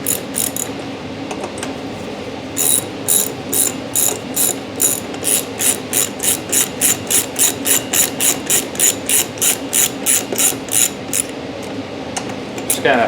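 Ratchet clicking while bolts are snugged down on a Dixon lawn mower, a long even run of sharp, close pawl clicks in steady bursts, alone without talk.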